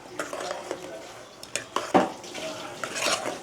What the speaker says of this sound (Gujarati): મિક્સ કરી દઈએ અને થોડુંક ગેસ ફાસ્ટ કરી દઈએ.